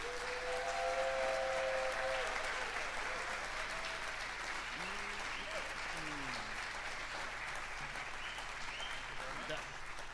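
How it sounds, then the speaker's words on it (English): Steady, dense audience applause at an alumni achievement awards ceremony, continuous throughout with faint voices mixed in under the clapping. "how about a nice round of applause for Tom Pico"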